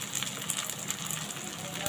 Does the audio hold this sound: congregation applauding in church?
no